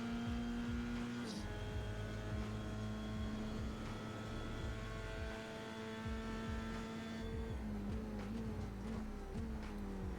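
A Formula 3 race car at Road America accelerates hard through the gears, its engine note a steady high buzzing drone with shifts and a rising pitch near the end, heard from onboard with no talking.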